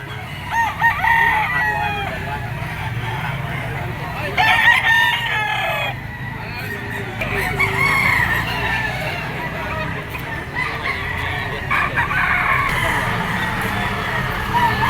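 Gamecock roosters and stags crow repeatedly at a poultry market in Lipa, Batangas, with overlapping loud calls and clucking over a busy, noisy crowd background.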